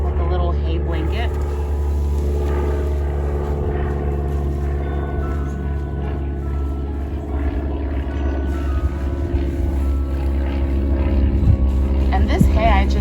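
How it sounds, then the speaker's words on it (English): An old, loud propeller airplane drones overhead above a vegetable garden, a steady low rumble with a throbbing engine note that grows slightly louder toward the end, while someone talks over it. "Hey, airplane, one of them old school loud airplanes."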